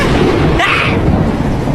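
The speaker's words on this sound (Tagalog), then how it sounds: "Ang lakas po kasi ng ulan" Heavy downpour with thunder, a loud dense roar of rain and low rumbling filling the whole stretch, with a brief brighter hiss midway.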